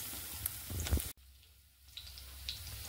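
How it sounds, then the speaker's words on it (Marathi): Chopped garlic and coriander sizzle in a hot pan, a crackling hiss with spitting pops that briefly cuts out, then resumes softer and steady. "तर बघा हे आपलं चांगलं परतत आहे, लसणाचा खूप सुगंध येत आहे"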